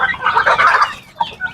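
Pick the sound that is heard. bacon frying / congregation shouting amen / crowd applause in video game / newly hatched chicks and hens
newly hatched chicks and hens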